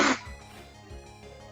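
A single short, sharp sneeze right at the start, fairly close, followed by quiet room tone.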